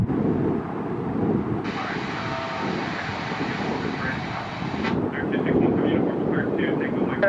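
A Dassault Falcon 900 business jet at KORL airport gives a steady, broad engine roar with a bright whining band through the middle of the clip. Radio chatter talks over it.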